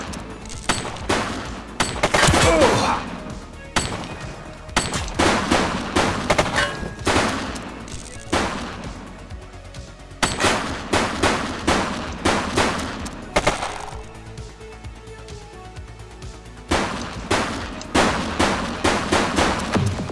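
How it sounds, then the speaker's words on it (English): Sustained gunfire in a cops-and-robbers police video game, with loud bursts of rapid shots repeating in clusters and brief pauses between volleys across the whole stretch. "Shots fired!"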